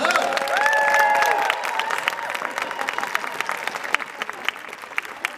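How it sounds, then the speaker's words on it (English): Audience applause welcomes guest Margaret Kerry onto a fan convention panel stage at Planet Comicon Kansas City, a dense wash of clapping with a brief whoop or whistle early on, then tapering to scattered claps. "Please give a warm round of applause to our next guest, Margaret Kerry."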